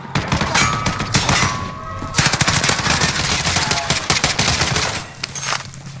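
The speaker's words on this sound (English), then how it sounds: "We were getting shot from the hilltop" Automatic gunfire from a hilltop in the Warzone video game, loud rapid bursts of shots with metallic clanks and impacts nearby, continuing for several seconds with no talking.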